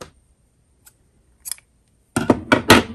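Scissors snip yarn after a row of bulky-weight crochet, giving a few faint ticks and then a cluster of three or four crisp close snipping clicks, with no talk.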